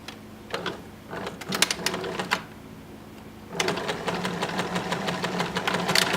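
A sewing machine stitches a shortened peaked sleeve, giving a quick rattling run of needle strokes, a pause, then a longer steady burst of fast mechanical stitching close by.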